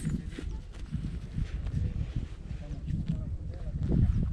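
Slow, uneven hoof clops of a draft horse walking nearby, mixed with low rustling and background noise.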